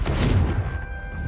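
Confringo, a fiery blast spell in Hogwarts Legacy, lands as a heavy booming explosion with a rumbling low tail lasting about a second.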